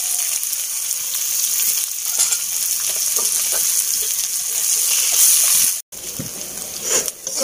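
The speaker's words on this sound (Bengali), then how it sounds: "আমি এখানে কুচিয়ে রাখা পেঁয়াজটা দিয়ে দিচ্ছি।" Chopped onion sizzles and fries in a pan of hot oil with cumin seeds and bay leaves, a steady close crackle with occasional stirring scrapes and a brief break near the end.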